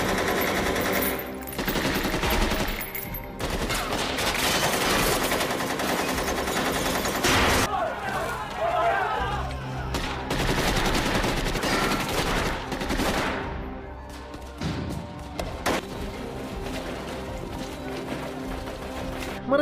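Gunfire in a prison scene from a film, with bursts of automatic shots and volleys rattling through the clip amid screams and shouting voices over dense background action.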